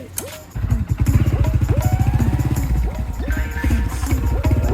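A motorcycle engine kicks in after a brief pause and runs loud and close with a steady, throbbing rumble as the bike pulls away.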